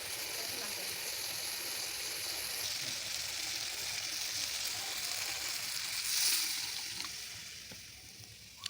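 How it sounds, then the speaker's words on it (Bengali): Food sizzles and hisses steadily in a pan after the lid comes off and it is stirred, during home Bengali cooking of fried dishes. A soft, continuous fry noise plays at close range. "ঢাকনাটা খুলে আমি আবার একটু নাড়িয়ে নিচ্ছি"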